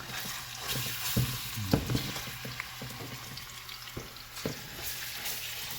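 Garlic fries and sizzles in a pan while it is stirred, the steady frying hiss broken by scattered scrapes and clatters from the utensil, some of them louder, at a moderate distance.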